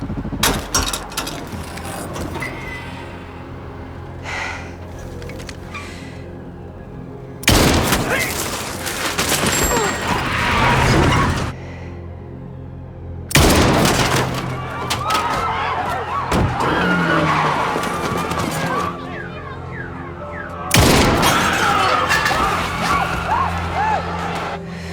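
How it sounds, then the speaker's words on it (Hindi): Gunfire without a silencer in a movie scene, loud bursts of rapid shots in several long volleys separated by quieter gaps filled with mechanical noise and rumble. "तुम्हें नीचे गोली चलानी है बस"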